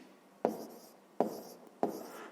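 Numbers written by hand during a fifth-grade maths exercise, three distinct pen strokes at a steady spacing, each a sharp tap trailing into a short scratch, close and fairly quiet with no talk.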